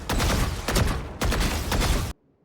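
Rapid automatic gunfire from a video game weapon rattles in two close, loud bursts of dense shots, then cuts to near silence.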